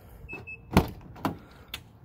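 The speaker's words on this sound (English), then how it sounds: "So we're going to open the door." Door of a Mazda Miata ND roadster being opened, heard as a few quiet mechanical clicks and a latch thunk followed by softer knocks, close by and fairly faint.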